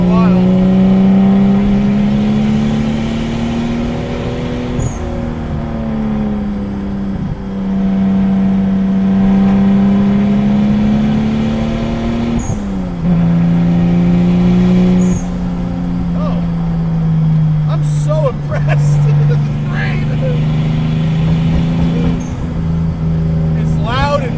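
A 400 WHP 2JZ-swapped Datsun 260Z rat rod engine drones steadily and loud while driving, with rising and falling revs and shifts around 7 and 13 seconds, close up under occasional talk.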